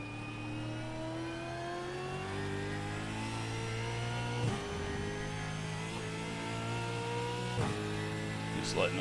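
A Supercar engine revving up through the gears on the Indianapolis road course in iRacing, a steady rising whine broken by quick upshifts, with a voice talking over it.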